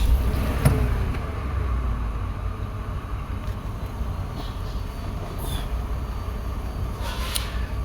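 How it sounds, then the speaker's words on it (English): A 2004 Porsche Cayenne engine turns over with a brief crank and settles into a steady, loud idle that rumbles on continuously. "I'm going to start the car."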